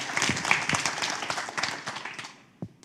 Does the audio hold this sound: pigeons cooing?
no